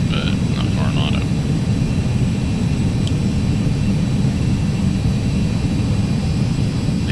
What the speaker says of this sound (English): The sounds on this airplane are really, really good. It sounds just like a CJ.